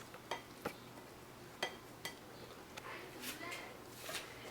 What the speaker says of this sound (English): take a plate and take a nice big scoop of your rice